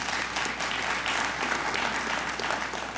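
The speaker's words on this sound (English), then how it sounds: "Yeah, give them an applause" Audience applause for registration volunteers at a small business program kick-off session, a fairly even, moderately loud wash of clapping from a roomful of people, no voices heard.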